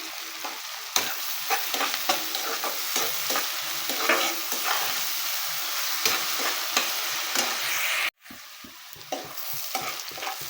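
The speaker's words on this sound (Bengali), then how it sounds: "পেঁয়াজ একটু হালকা হালকা যে ভাজা ভাজা হয়ে আসছে" Sliced onions fry and sizzle in a pan while being stirred, with salt added, for a katla fish and mung dal dish; a steady, close crackle with scraping stir strokes runs throughout, broken by one brief pause.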